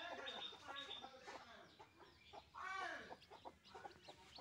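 A hen with ten newly hatched chicks clucks softly close by while the chicks peep in quick, high, overlapping calls, a gentle busy chatter throughout and no talking.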